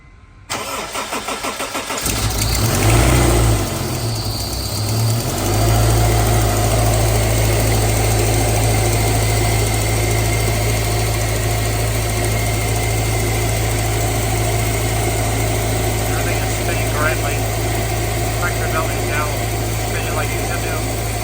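A Honda S2000 engine with its belt guard removed cranks and fires, then settles into a steady, loud idle that runs on continuously, with a low drone throughout.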